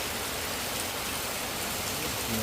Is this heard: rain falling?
yes